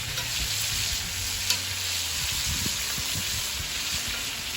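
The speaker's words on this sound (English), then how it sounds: "you want to go back in and bathe them with that butter again. So this is a garlic and herb butter." Steaks fry in a pan and sizzle loudly and steadily while being basted with garlic and herb butter, with soft scraping and tapping from a spoon going on beneath.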